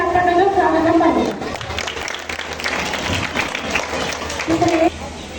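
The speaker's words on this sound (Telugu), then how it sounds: "ఈ బాలబాలికలను మనం గట్టి చప్పట్లతో స్వాగతం పలుకుతాం." An audience greets children coming on stage with a burst of applause, many hands clapping in a dense wash between stretches of a voice speaking over a microphone at the start and end.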